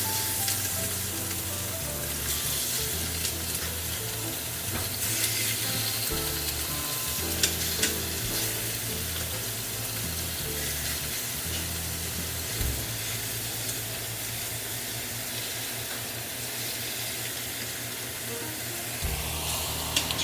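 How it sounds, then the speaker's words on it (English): Chicken pieces sizzle and fry steadily in a hot Instant Pot, a continuous crackling hiss with occasional stirring or tong movements, close and alone without talk. "It will sizzle."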